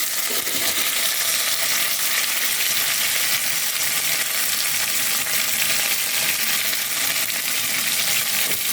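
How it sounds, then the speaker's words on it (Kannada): Chopped onions with mint frying in a pan for a restaurant-style vegetable pulao, a steady close sizzle and crackle running continuously, with no talking. "ಚೆನ್ನಾಗಿ ಫ್ರೈ ಮಾಡೋಣ."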